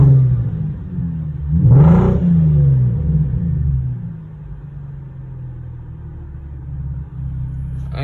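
A Chevrolet Camaro engine with a cylinder 6 misfire, revved once into a loud, rough rising roar that falls back to a low, uneven idle rumble.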